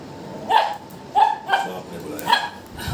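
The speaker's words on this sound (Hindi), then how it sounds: "अभी भाई साहब भौंक रहे हैं कि मैंने अंदर क्यों नहीं आने दिया" A pet dog barks indoors, giving four short, sharp barks spaced about half a second apart, close and fairly loud.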